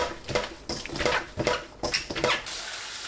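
Doraji, or bellflower root, is rinsed by hand in a bowl of water, with a series of close splashing and sloshing bursts and a brief rush of running water near the end.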